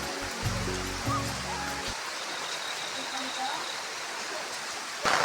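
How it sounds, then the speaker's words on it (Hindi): Heavy rain pours down steadily in a village, a dense, continuous hiss that lasts throughout, with a brief voice-like sound near the start. "अब बहुत ही तेज़ बारिश होने लग गई है।"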